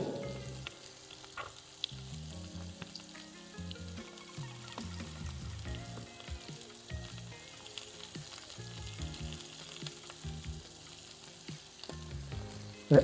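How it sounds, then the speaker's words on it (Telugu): Hill goat mutton frying with turmeric and chili powder, a low crackling sizzle steady throughout with occasional soft stirring scrapes, fairly quiet and without voices. "ఈ 3 కలిపేసి ఫ్రై చేద్దాం."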